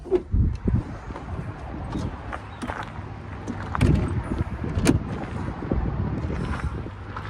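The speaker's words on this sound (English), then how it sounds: "The winds are still crazy high." Strong wind buffets the microphone in rough, uneven gusts in Amarillo, Texas, with bursts of rumbling and flapping noise rising and falling.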